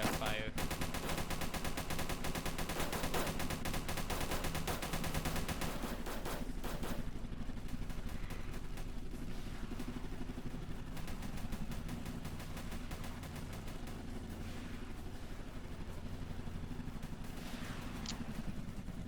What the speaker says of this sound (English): You can mix two fire, two types of anti-aircraft fire.